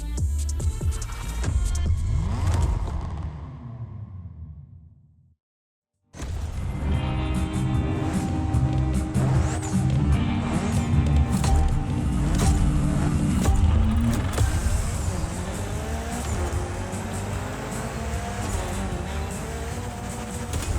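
A Mitsubishi Lancer Evo 9 is driven hard in the racing game The Crew Motorfest during a Gymkhana event, its engine revving and roaring loudly with gear changes, cutting out to silence briefly before resuming at full throttle.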